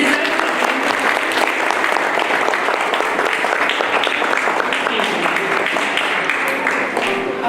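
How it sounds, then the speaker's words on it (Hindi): Staff applauding colleagues at a police training school promotion party in Pachmarhi, loud continuous clapping from a sizable crowd that holds steady throughout. "इनके लिए ताली बजाओ"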